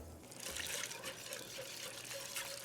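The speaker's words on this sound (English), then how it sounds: "now I'm gonna add the milk." Milk poured into a hot bubbling butter-and-flour roux in a pan, a steady soft liquid stream with faint sizzling, close and continuous.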